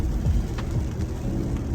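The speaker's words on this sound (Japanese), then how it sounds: "雨がちょっと強くなってきたかな。" Heavy rain from a strong typhoon pours down steadily outside a house, a dense continuous wash of drumming drops with faint low rumbles underneath, no voices.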